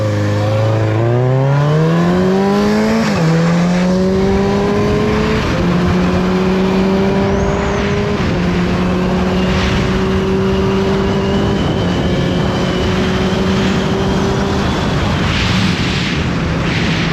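Yamaha R6 sport motorcycle riding on a road, engine loud and close throughout, revving up through several gear shifts with rising pitch in steps, plus steady wind rush and no talking.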